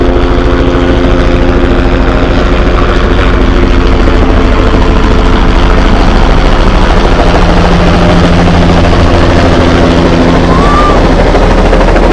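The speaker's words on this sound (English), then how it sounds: "you can hear there's a chopper overhead" A helicopter passes overhead during an outdoor high school soccer match, its rotor and engine producing a loud, continuous, throbbing drone that fills the whole stretch without letting up.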